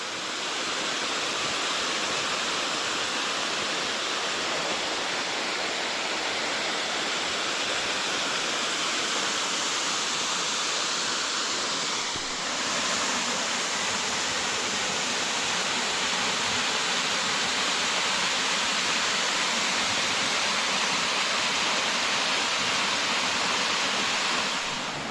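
A waterfall on the Falls Trail at Ricketts Glen, along Kitchen Creek, gives off a steady, loud, broadband roar of rushing water close by. It runs unbroken for the whole stretch with no talk.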